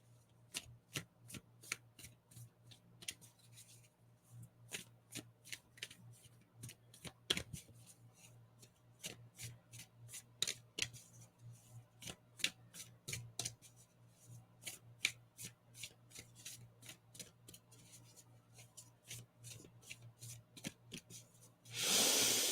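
Tarot cards are shuffled by hand in a long run of crisp riffling and soft flicks, close and fairly quiet, with irregular bursts of snapping card edges and a brief louder rustle at the very end.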